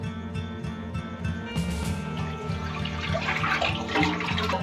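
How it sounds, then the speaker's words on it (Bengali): Milk poured from above into a kadai on a gas stove, with a little water already in the pan, for kesar malai kulfi: a steady, continuous liquid splash that holds for several seconds over a low, even hum. "এবার আমি দুধটা ঢেলে দেবো।"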